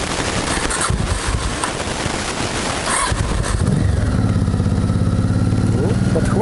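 Honda motorcycle engine cranking and catching on the second attempt, then running in a steady, rapid, close-up idle pulse.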